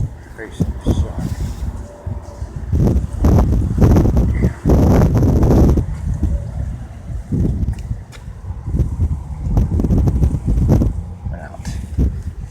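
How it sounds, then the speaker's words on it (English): Strong gusty wind buffets the microphone at an outdoor hotel pool, a loud rumbling roar that rises and falls throughout while someone talks over it. "It's so windy."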